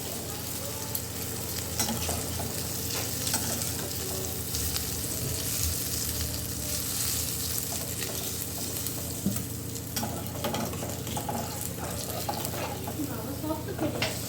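Pea kachori deep-frying in hot oil, one after another, a continuous close bubbling sizzle with occasional stirring clinks, steady throughout with faint voices in the background.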